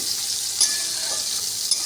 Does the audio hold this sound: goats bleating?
no